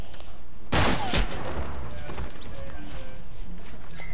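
Sniper rifle shots in the Fortnite video game: a sharp, loud burst of gunfire with a quick follow-up crack, then a trailing echo and game ambience.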